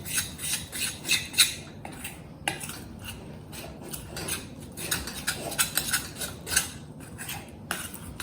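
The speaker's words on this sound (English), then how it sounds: "what you have to do is mix it nicely" Raw mango kadhi batter being whisked in a bowl, a steady run of scraping and clinking from a utensil knocking against the sides, close and fairly loud, with no voices.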